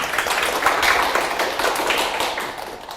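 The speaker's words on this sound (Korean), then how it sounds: "예, 박수 한번 주세요" An audience applauds in a lecture room: dense, steady clapping from many hands, close and lively, fading slightly toward the end.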